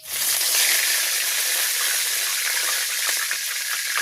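Whole cumin seeds and torn bay leaves sizzle steadily in hot soybean and mustard oil, a loud, dense, continuous crackle with no pauses, close by in a village kitchen.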